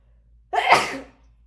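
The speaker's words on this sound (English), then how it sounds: "I'm gonna sneeze." A single loud sneeze, close up, with a sharp onset and a breathy tail fading over about half a second.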